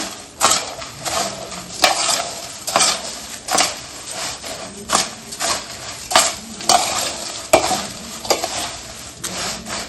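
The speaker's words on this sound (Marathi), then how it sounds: "आता हे चांगलं मिक्स करून घेऊया।" Poha chivda mixture stirred in a pan for a traditional Dagdi poha chivda with oil just added, a steady run of close scraping strokes and light sizzling in an uneven rhythm, with no talking.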